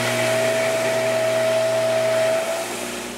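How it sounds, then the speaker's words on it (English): A belt sander smooths the face of an aluminum fidget spinner, producing a steady close whir with a sustained tonal whine that eases off near the end, with no talk. "Let me clean up this face here on the belt sander,"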